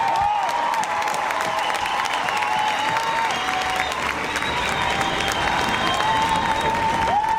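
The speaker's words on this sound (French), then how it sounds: "Je voudrais qu'on applaudisse ce qu'on appelle François Chouquet." A crowd applauds backstage at Mozart l'Opéra Rock, a loud, sustained roar of clapping with a few cheers and faint voices mixed in.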